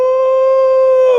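A man vocally imitates a monkey with one loud, sustained howling cry that holds a steady pitch for just over a second.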